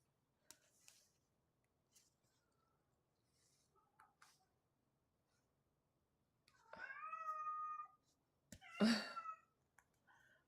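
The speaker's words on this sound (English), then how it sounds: "he is a very loud vocal kitty" A cat yowls loudly twice in the foreground, a drawn-out wavering cry followed by a shorter, sharper one, with faint clicks and rustles between.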